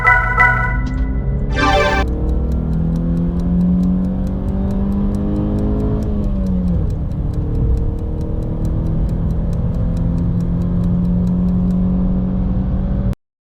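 A 2007 BMW 318i E90 engine drones steadily from inside the cabin, revving up through the six-speed manual gears with rising pitch, a brief dip at a shift, then climbing again.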